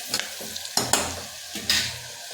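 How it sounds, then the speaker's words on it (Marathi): Turmeric being stirred into a hot pan for rajma, with a light sizzle under three or four distinct scraping strokes of a spoon against the metal, close and clear. "हळद टाकल्यानंतर पण असं हलवून घ्यायचं छानपैकी"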